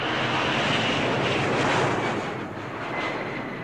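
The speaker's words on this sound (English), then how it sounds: "Oh, it's a plane." Steady broadband roar of a fixed-wing plane passing overhead, loud and continuous for several seconds with a slight fade near the end and no talk.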